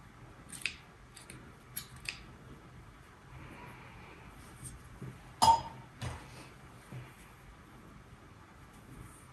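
Scissors cutting yarn off a crochet top, a few sparse, sharp snips spread over several quiet seconds, one louder and closer than the rest, with no talking.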